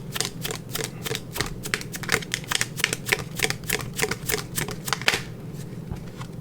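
Tarot cards being shuffled close up, a rapid run of crisp riffling flicks in quick bursts that stop near the end, with no talk.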